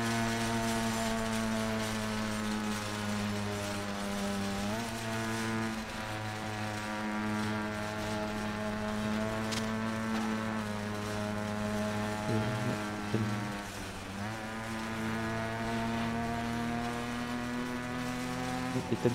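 Simulated engine in the RaceRoom racing game during a shopping trolley race, a steady droning whine with strong harmonics that rises and dips in pitch as the car accelerates and shifts, continuous and fairly loud throughout.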